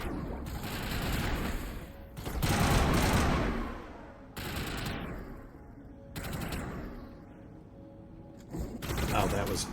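Bursts of automatic gunfire in the video game Mass Effect Legendary Edition come in several sustained volleys separated by brief pauses, loud and close, with a voice talking in between.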